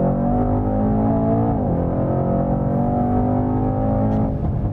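Mercedes-AMG E63 S on a racetrack: a loud, steady engine drone holding a sustained pitch, with a brief dip and shift midway, then a rising tone at the end.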